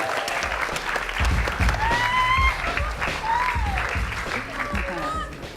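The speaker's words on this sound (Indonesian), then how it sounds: "tepuk tangan buat Uchen semua." A TV talent-show audience applauds a contestant, with steady clapping and cheering running the whole way under overlapping talk and bright whistle-like tones.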